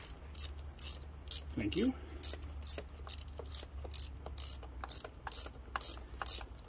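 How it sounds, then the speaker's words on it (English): A short ratchet wrench clicks in a fast, even run of sharp metallic ticks, close up, with a brief voice murmuring partway through. "the nice thing about this ratchet too is, believe it or not, I actually don't have a short ratchet"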